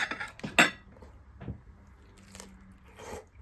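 Cutlery scrapes and clinks against a plate while cutting open a chicken quesadilla, a few sharp crunchy strikes followed by softer scattered scrapes, close and isolated.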